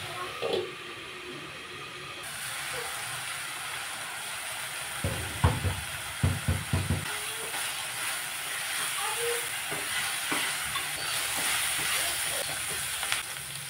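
Karjam curry stirred in a pan, giving a steady sizzling hiss throughout with a cluster of sharper scraping bursts partway through.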